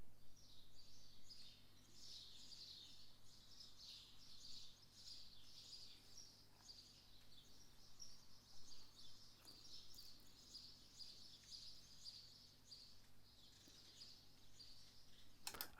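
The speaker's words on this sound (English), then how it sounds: "A kind of residential type of birds tweeting far away." Residential birds tweet far away as background ambience, soft scattered chirps that rise and fall over a quiet, steady room tone.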